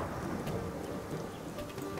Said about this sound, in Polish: Kurde, jaka burza się rozpętała.